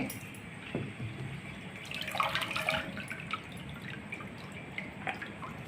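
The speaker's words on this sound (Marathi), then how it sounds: "आता पालक स्वच्छ पाण्यात धुवून घेणे।" Spinach being rinsed in clean water gives faint, scattered drips and light splashes, quiet and steady, with no voices.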